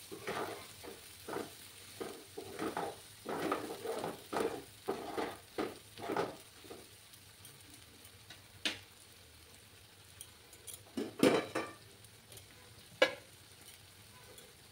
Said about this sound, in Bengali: গ্যাসের আঁচটাকে আমি একটু কমিয়ে ভালো করে কষিয়ে নেব